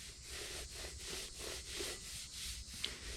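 Surface rust is scrubbed in a steady back-and-forth rhythm, with about seven even rasping strokes heard up close and no talking over them.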